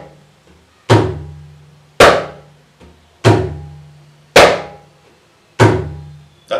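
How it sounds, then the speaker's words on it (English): Mridangam strokes Tha and Dhum played for comparison, five loud, separate hand strikes on the drum with deep, booming low tones that ring and decay between hits, spaced about a second apart. "I will play both Tha and Dhum, and so that you know the sound difference."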